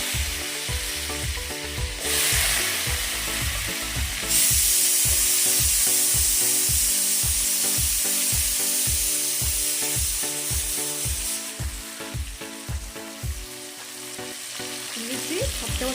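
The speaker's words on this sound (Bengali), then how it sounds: "এরপর ওই তেলের মধ্যে দিয়ে দিচ্ছি এই যে দুটো মাঝার সাইজের আলুকে" Two medium potatoes, cut and soaked in water, frying in hot oil with a loud constant sizzle, broken by rhythmic scraping and tapping of a utensil stirring the pan.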